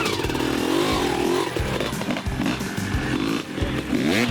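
A 1986 Honda CR250R two-stroke motocross dirt bike, vintage and modified for hare scrambles, runs close by with a loud, raspy, crackling engine that blips and revs in quick repeated bursts.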